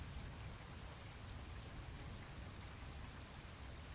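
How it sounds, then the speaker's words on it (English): Steady, soft rain falling continuously, a dense even hiss with no pauses and no voices. "The rain is ending now."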